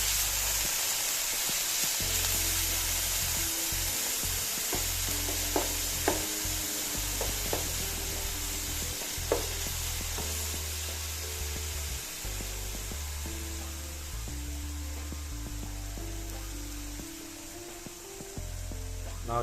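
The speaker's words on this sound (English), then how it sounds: "That sizzle is exactly what we wanted." Chicken fries in hot oil in a pan for homemade lasagna, a continuous loud crackling sizzle broken by occasional scraping clicks as the pieces are stirred around, with no talking.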